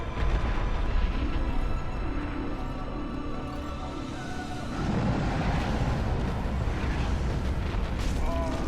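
Black firebomb explosions in Dark Souls Remastered make a dense, loud roaring rumble with overlapping booms that carries on steadily throughout, swelling slightly toward the end.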